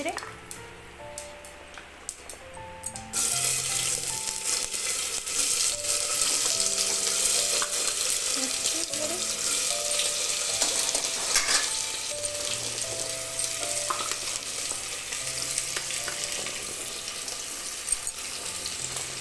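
Tempering spices for Puri-style machha mahura crackle and splutter in hot oil. A quiet start gives way after about three seconds to a loud, dense, continuous frying hiss with scattered pops, and faint music sits low in the background.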